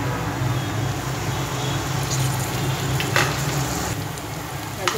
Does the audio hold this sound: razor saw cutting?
no